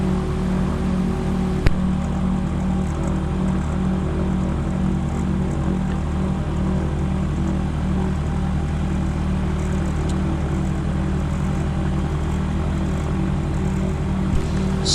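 A gyroplane's engine and propeller drone steadily at close range while it taxis on a grass runway, a constant low hum with a brief click near the start and no talk.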